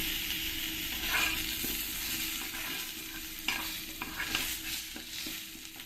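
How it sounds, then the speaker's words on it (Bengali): Cut potato pieces fry in oil left over from frying fish, making a constant close sizzle broken by occasional stirring scrapes and clicks. "এবার আমি এই মাছ ভাজা তেলের মধ্যে আলুগুলো কেটে নিয়েছি, এইগুলো একটু লাল লাল করেই ভেজে নেব"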